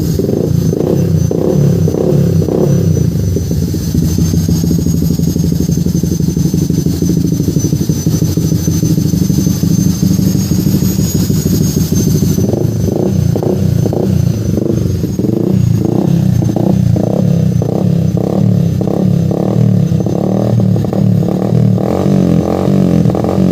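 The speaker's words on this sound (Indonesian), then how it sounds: "si Yamaha Vixion ini ya. Nanti kita langsung bakalan cek sound, kita ngedengerin suaranya" A custom Yamaha Vixion cafe racer motorcycle engine idles and revs up close, its loud throbbing exhaust pulsing steadily with a rough, throaty rhythm throughout.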